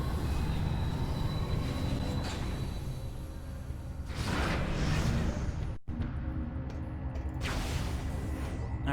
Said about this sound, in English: Nice little train ride.